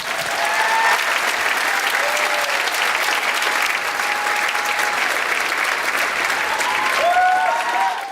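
Sustained applause from a large crowd, steady and loud throughout, with a few whistles and cheers rising above the clapping.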